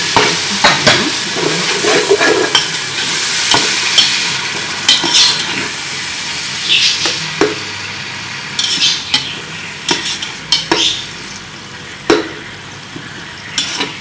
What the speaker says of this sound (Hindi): थोड़ी देर के लिए भूनेंगे इसको।